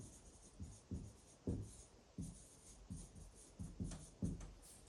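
Pen drawing on paper, a series of scratchy strokes in an uneven rhythm, close and quiet, with no speech.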